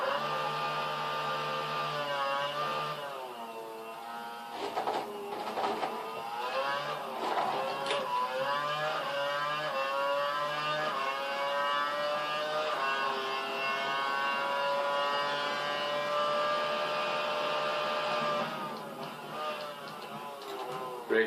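A Formula 1 car engine in the video game F1 2012 drives laps around Malaysia, a steady high-pitched whine that climbs and drops with gear changes, running nearly throughout with someone talking intermittently.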